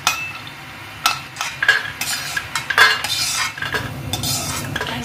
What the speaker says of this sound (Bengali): কড়াইয়ে তেল দিয়ে একটু বড়ি ভেজে নিচ্ছি।